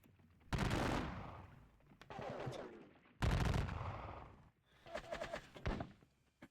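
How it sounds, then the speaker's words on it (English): Musket volleys in a Napoleonic wargame, with several loud, close rolling bursts of gunfire and brief gaps between them, and no voices. "Our exchanges of gunfire are fairly vicious at the moment."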